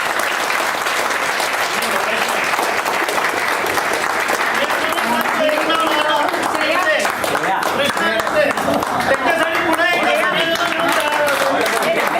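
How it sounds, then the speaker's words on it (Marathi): Audience at the closing session of a book lovers' convention in Lonavala gives loud, sustained applause, dense clapping continuing without a break, with some voices mixed in. "सचिन सर श्रेया अविनाश केदार महेश या सगळ्यांसाठी एकदा जोरदार टाळ्या वाजवा"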